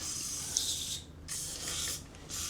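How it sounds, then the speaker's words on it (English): WD-40 aerosol sprayed onto a removed rudder assembly part in three close hissing bursts separated by short pauses, with no talking. "we'll clean that up and put some WD-40 on it."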